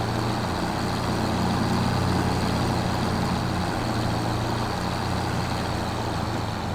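A tractor strains to haul a heavily loaded livestock trailer in Farming Simulator 25: a constant loud engine drone with a low labouring hum, steady and unbroken throughout.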